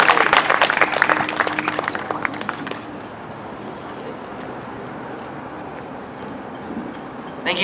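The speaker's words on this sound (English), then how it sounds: "Thank you, Caesar. Yeah, let's give him a round of applause." An outdoor budget town hall audience in a Salinas park breaks into a burst of clapping that rings out for about three seconds, then dies away into quiet wind and background murmur.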